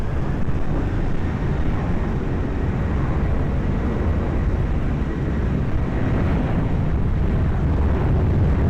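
Jet plane taking off from runway 20 at Lisbon Airport in a strong wind, a loud, dense, unbroken engine roar with heavy low rumble filling the whole stretch, close and alone.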